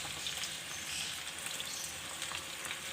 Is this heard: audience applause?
no